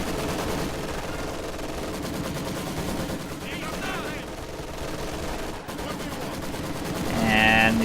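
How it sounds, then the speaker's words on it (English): In a video game battle, a machine gun fires in a steady, rapid rattle that runs throughout and swells near the end, with a commentator talking over it. "There goes that machine gun."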